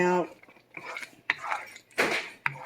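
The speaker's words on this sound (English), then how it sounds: "We're gonna cook this and keep stirring until the cheese is really" Spoon scraping and clinking against a pot while spaghetti sauce of canned tomato sauce and melting cheese is stirred, with several sharp knocks spaced unevenly over a few seconds, close and moderately loud.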